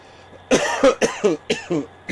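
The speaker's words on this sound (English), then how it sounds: "Having a coughing fit" A man has a close, harsh coughing fit of about six rapid, rough coughs in quick succession, with no speech.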